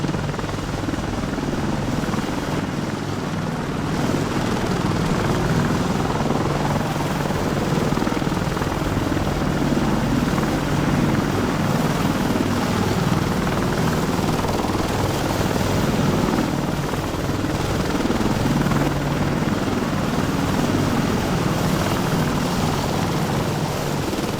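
An attack helicopter flies in the Arma 2 combat simulator, a steady loud rotor and engine drone that holds without a break throughout, with no talking over it.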